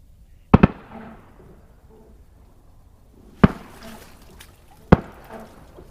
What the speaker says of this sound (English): They're shooting birds like 80 yards in the air